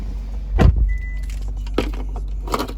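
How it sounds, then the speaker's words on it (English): A 2016 Hyundai Tucson Highlander AWD with keyless push-button start: a sharp burst as the engine fires, then a quieter idle with a few small clicks and mechanical ticks nearby. "As we jump in, you just foot on the brake and just simply push to start."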